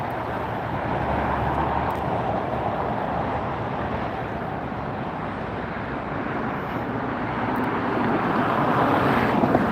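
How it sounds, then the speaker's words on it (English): A Virgin Atlantic airliner taxiing at LAX, a steady broad jet-engine roar and rumble holding for the whole stretch, moderately loud and slightly swelling toward the end, with some wind noise. "Taxiing in front of us now, we have the Virgin Atlantic."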